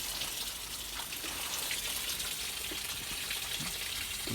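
Water splashes down near a blue pipe by the Lea Road Station ramps, a steady hissing, spattering wash with scattered drips that stays fairly loud throughout.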